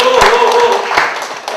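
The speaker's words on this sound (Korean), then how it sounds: "박수 쳐주시고" Audience applause at a Korean party debate forum in Incheon, a brief burst of hand claps close to the microphone that thins out within about a second and a half.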